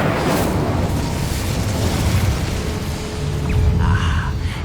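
An Incendio fire spell is cast in Hogwarts Legacy: a sustained roaring, whooshing blast of fire that holds steady for several seconds, loud and close, with a few brief chimes near the end.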